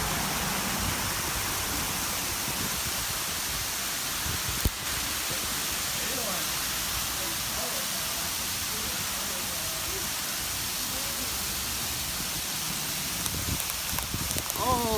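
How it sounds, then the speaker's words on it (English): Hail falls outdoors in Vacaville, a dense, steady hiss of ice pellets striking surfaces, loud and continuous throughout with a few sharper impacts. "we've got hail."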